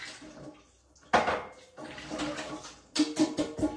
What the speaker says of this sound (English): Just give my hands a quick wash.